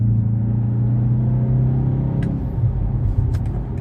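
A BMW X1 M35i in sport mode accelerates hard, its engine a loud, steady low rumble heard from inside the cabin, with a few small clicks toward the end.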